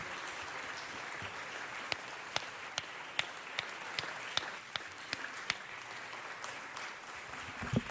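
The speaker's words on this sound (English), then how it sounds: "let's give another round of applause" Audience applause at a Los Angeles City Council presentation for LGBT Heritage Month, a steady even wash of clapping from a seated crowd with a few sharper nearby claps standing out, moderately distant and unaccompanied by talk.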